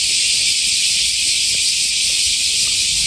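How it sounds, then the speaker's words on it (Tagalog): Crickets chirp loudly at the entrance of Fushimi Inari Shrine in Kyoto, a dense, steady high-pitched drone that fills the whole stretch without a break and with no talking. "Grabe yung tunog ng mga kuliglig from the entrance of Fushima Inari Shrine."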